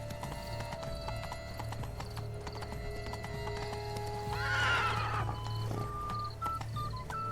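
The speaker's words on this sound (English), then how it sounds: "Waar is dat paard? Ah, hier is dat paard. Giddy up." Hooves clip-clop steadily from a horse in The Witcher 3: Blood and Wine, then a loud whinny rises over the trotting rhythm, with game music and ambient tones underneath.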